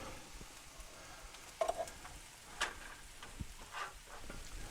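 Butter sizzles faintly in a hot pan on the stove, a soft steady crackle with a few light clinks and scrapes of a utensil spreading it around.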